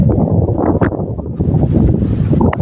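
Strong wind in rainy weather roars and buffets the microphone in loud, continuous low rumbling gusts with no talking.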